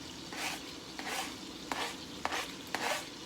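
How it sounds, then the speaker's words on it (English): Onions and garlic cloves frying in a pan, a steady close sizzle broken by repeated scraping stirs and a few sharp utensil taps against the pan, no talking. "Now I'm going to put in the onions and the garlic cloves that I cut earlier."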